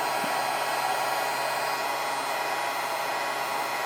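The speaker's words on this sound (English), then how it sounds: "I'm going to hit it with the cold heat gun, just to kind of make this set up a little bit" Heat gun on its cold setting blowing over fresh scale-model paint markings, a steady, close, even rushing whoosh of air that holds unchanged throughout with no pauses.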